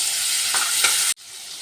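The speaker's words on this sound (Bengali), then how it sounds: "1 মুঠ কড়াইশুঁটি দিয়ে দিলাম, ভালো করে ভেজে নেব" Paneer and green peas fry in ghee in a pan, a bright steady sizzle with brief stirring scrapes, then cut short suddenly before the sizzling resumes more softly.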